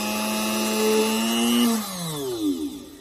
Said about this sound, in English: you slide the pearl up against the drill bit, then you turn it on